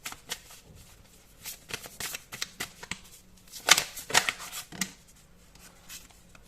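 A tarot deck is shuffled close by, with soft papery riffles and a few sharper card snaps in short irregular bursts, with no voice over them.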